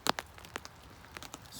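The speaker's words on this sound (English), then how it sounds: "It's been raining for the last couple of hours now." Rain falling outdoors on a misty, miserable day with snow still lying about: scattered, irregular drops tapping a nearby surface over a quiet, steady wash, faint and without voices.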